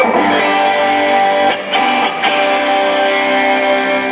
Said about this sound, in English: to go from a nice clean sound, it's a little bit out of tune, but to a nice fat chunky sound